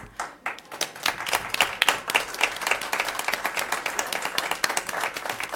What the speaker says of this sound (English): Could all the students and teachers from Cedar Creek please stand so we can give you a round of applause?